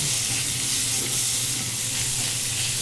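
Italian sausage sizzles loudly in a hot pan while being stirred and broken up, a continuous crackling fry with soft scraping underneath.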